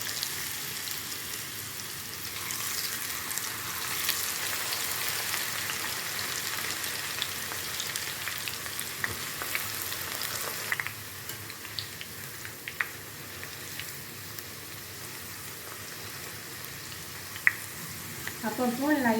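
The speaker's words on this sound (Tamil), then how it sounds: "இப்போ வந்து நம்ம கொஞ்சம் கொஞ்சமாக ஆயிலை போட்டு ஃப்ரை பண்ணிடலாம்." Tapioca chips deep-frying in hot oil, a steady dense crackling sizzle that runs throughout, loud and close, with occasional stirring clicks toward the end.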